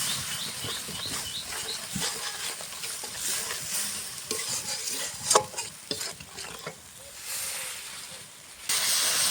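Spice mix of salt, chili powder, turmeric and coriander powder being sautéed and stirred in a pan, with a steady sizzling hiss, scraping stirs and occasional louder clanks of the utensil against the pan, no talking.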